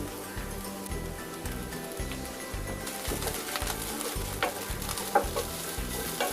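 Dry coconut roasting in a pan with little oil, a continuous close sizzle broken by repeated rhythmic scraping strokes of stirring throughout.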